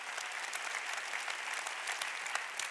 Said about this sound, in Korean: 두 손을 들고 순교도 하는 걸 믿으면 박수해라.